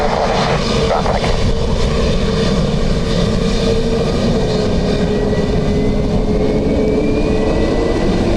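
An A320 airliner landing in gusty wind at Dublin Airport, a loud sustained roar of jet engines with rumbling broadband noise and a faint rising whine late on.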